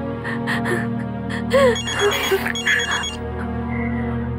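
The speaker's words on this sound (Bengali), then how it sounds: "ড্যাডির ফোন এসেছে, আমি একটু কথা বলে নিচ্ছি।" A telephone rings in a scene from a television crime drama: a loud, tonal ringtone repeating in bursts, mixed with other indoor sounds.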